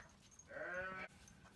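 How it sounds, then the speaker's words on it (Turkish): A single clear sheep or lamb bleat rises from a flock of about thirty sheep with newborn lambs, close and wavering for about half a second over quiet farmyard background. "Şu anda 30 koyun var."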